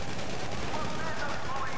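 Rapid gunfire bursts from the video game GTA 5 Online, dense and continuous through the moment, with a player talking over the shots.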